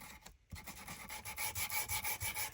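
Steady rhythmic sanding rasps back and forth over a distressed paper bag lap book, close and even, a long continuous stroke pattern with no voices.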